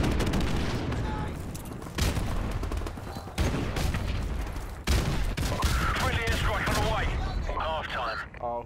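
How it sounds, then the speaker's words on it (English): Airstrike explosions and heavy gunfire in Call of Duty: Modern Warfare Remastered during a Domination match on Strike, with several loud, dense booming blasts over continuous battle noise and voices talking throughout. "Whoever called that airstrike in."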